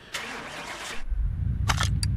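A V12 bi-turbo tractor engine in Car Mechanic Simulator cranks with a short whirring starter burst, then catches into a low, steady rumbling idle. A couple of light clicks sound over it.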